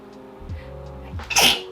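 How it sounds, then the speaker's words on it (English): A single sharp sneeze bursts out close to the microphone after a quiet, low background hum. "I'm gonna sneeze."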